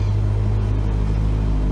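Aircraft engine in Flight Simulator 2020 throttling up, a steady close droning hum with a strong low tone, alone without talk.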